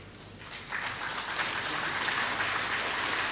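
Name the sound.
audience applause for committee members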